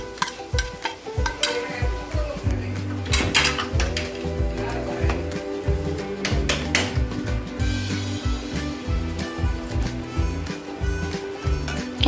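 Spoon scraping and clinking against a pan while red chili, coriander and turmeric powders are stirred over a low flame, a repeated rhythmic metallic scrape with faint sizzling and no talking.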